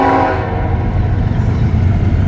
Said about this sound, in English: Anyways, we do got a train coming, folks.